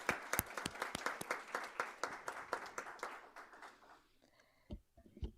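An audience at a city commission meeting claps in a steady burst of applause for about four seconds, then it thins out to a few scattered claps and fades away.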